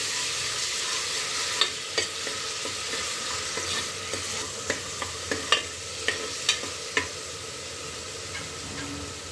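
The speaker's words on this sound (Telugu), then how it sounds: "అల్లం పేస్ట్ పచ్చివాసన పోయేంత వరకు వేయించుకోవాలి" Ginger paste fries in a pan for a simple Renati-style mutton curry: a soft, continuous sizzle, with a string of sharp spoon clicks and taps against the pan every second or so.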